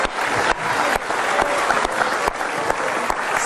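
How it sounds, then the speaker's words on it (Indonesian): Audience clapping in a television studio crowd, a dense, loud burst of applause sustained throughout with brief surges, no talking over it. "Tepuk tangan untuk Bank Permata."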